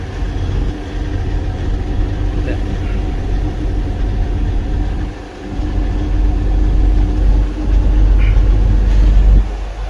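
A Tata Signa ten-wheel load truck cruising in eighth gear gives a steady, loud low engine drone with road rumble, dipping briefly midway and then resuming at the same level.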